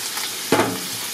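Octopus tentacles fry in a pan with a sudden, close sizzle that flares sharply and then settles into a steady crackle, with no talking.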